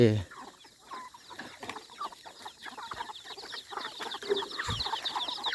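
Chickens cluck and chatter in a busy outdoor flock, with scattered calls over steady farmyard background noise.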